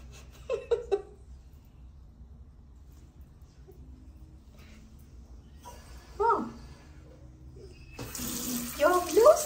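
A tap runs into a sink while a child washes their face, a steady splashing stream throughout, with brief giggles and voices at the start, middle and end.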